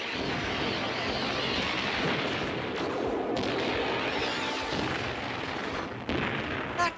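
A cannon in the Voltron cartoon fires with a long, loud, booming roar and rumbling blasts that run for several seconds, then cut off sharply near the end.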